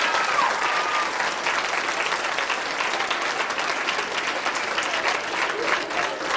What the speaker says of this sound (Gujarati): તાળીઓને ગડગડાટ